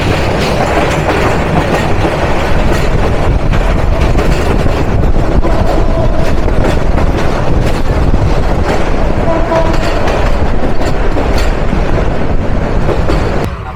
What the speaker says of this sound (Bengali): মহানগর এক্সপ্রেসের সাথে ডাবল লাইন ক্রসিং হলো মালিবাগ রেলগেটে।